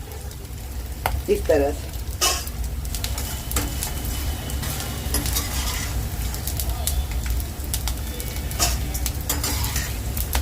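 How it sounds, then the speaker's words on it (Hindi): Laddu ingredients fry and get stirred in a hot pan, with a steady sizzle and repeated scraping stirs throughout and a brief voice near the start. "बस अभी इसी से फटाफट फ्राई करना है और फटाफट निकालना है"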